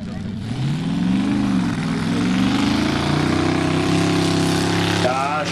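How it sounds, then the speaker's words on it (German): A home-built pulling tractor powered by a Chevy V8 roars loudly and continuously at a tractor-pull event in Friesack, its pitch rising and then holding steady under strain before cutting off near the end. "Da steckt Kraft in diesem Chevy V8."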